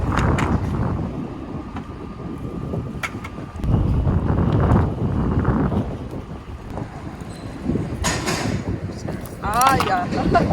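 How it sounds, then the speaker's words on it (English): Strong gusty coastal wind buffets the microphone with a heavy low rumble while fishing, and muffled voices come through faintly underneath. "So it's a bit windy."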